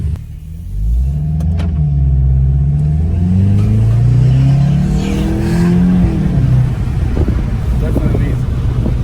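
VW GTI engine revving through a Rev 9 exhaust, loud and close, with deep rumbling pulls that climb and fall in pitch across several gears, someone briefly speaking over it.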